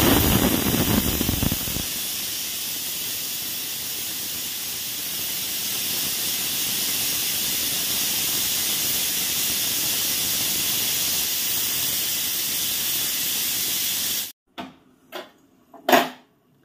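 Pressure cooker on the gas cooking chicken popati, venting steam in a long, steady, loud hiss that runs unbroken, then stops and gives way to a few sharp metallic clinks.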